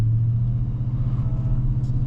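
A 2024 Ford F-150 Raptor R pickup with a 5.2-litre V8 pulls away while towing an enclosed trailer, a deep low engine rumble that holds steady and close throughout.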